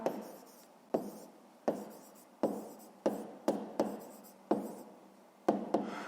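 Pen writing on paper while working a school maths problem: a close series of about nine short, scratchy strokes, each starting sharply and fading, with brief gaps between them and no talking.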